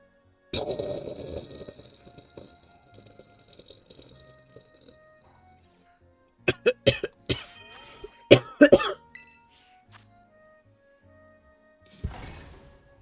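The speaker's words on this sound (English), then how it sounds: "Cough." Someone with a cold coughs in several bursts: one harsh cough early, then a cluster of sharp close coughs a few seconds later and a final cough near the end, with quiet gaps between.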